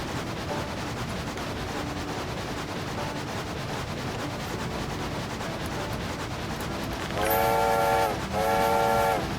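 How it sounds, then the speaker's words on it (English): Two long train whistle blasts from a locomotive in a train-driving video game, loud and harmonic, cutting in near the end over a steady rumble of rolling train noise. "Almost missed the whistle."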